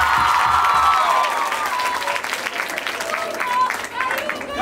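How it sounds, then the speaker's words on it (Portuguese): An audience claps loudly for the student association president stepping onto a stage, a sustained burst of applause that slowly thins, with a voice urging the crowd on over it. "Mais palmas, vá lá pessoal, palmas para ele."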